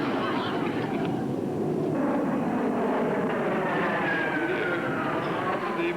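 Big aircraft engines give a loud, continuous roar with a whining tone that slides slowly downward, filling the whole stretch without a break.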